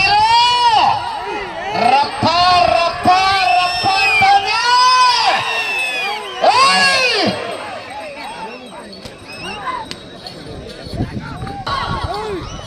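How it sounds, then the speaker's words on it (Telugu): Loud festival crowd at a village prize event in Avulampalli, with dense overlapping shouts, whoops and high whistles rising and falling in bursts across the whole stretch, close and energetic. "గట్టిగా విజిల్లు కేకలు"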